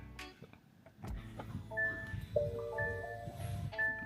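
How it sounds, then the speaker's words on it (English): A car engine starting inside the cabin, a brief cranking burst followed by a low idle hum, faint and close, with electronic chime tones from the dashboard ringing out over it. "we're gonna start the car"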